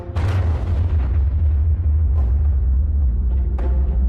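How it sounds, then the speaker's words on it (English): Nuclear bomb test explosion, the Operation Crossroads Baker shot, a loud sustained deep rumbling roar with a few crackling bursts on top, steady throughout. "the Baker shot remains the most enduring single image of the power of the bomb"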